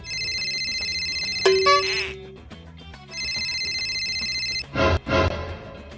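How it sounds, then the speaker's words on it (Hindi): Telephone ringing tones repeat in two bursts, with a descending electronic tone between them, while a call is redialed during a comedy phone segment; brief loud noise bursts follow near the end. "हमारे पंडू जी से कनेक्शन कट हो गए लगा थे, फिर दोबारा फोन लगाया जाए बोला।"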